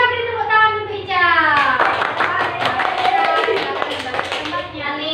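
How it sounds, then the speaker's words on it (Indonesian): A classroom of students claps for a classmate, with dense, lively hand clapping breaking out after a voice and continuing steadily to the end. "Kita beri tepuk tangan untuk Ica."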